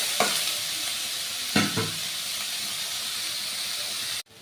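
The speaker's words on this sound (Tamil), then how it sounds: "ஸ்லோ ஃப்ளேமில் வச்சுக்கிறேன். இது இப்போ நல்லா வதங்கட்டும்." Vegetables with curry leaves sauté in a pan over a low flame for chapathi noodles, a steady close sizzle and hiss with a few brief stirring scrapes, cut off abruptly near the end.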